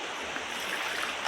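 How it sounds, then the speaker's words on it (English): Water pours and splashes out of a gold pan during panning, a steady close-up rushing gush filling the whole moment without pause. "Pour out the water, your gold's not gonna come out."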